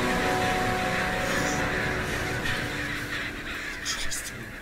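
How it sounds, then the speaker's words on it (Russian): Crows caw through a dense, loud ambient wash in the video game Gray Dawn, the calls blending into a constant layered background. "Там что, заповедник ворон?"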